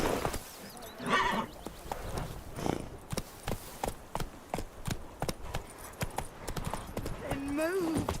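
Hooves of the horse Roach pound rhythmically in The Witcher 3 as the mount gallops, with a whinny and snort near the end; game voices speak over the hoofbeats.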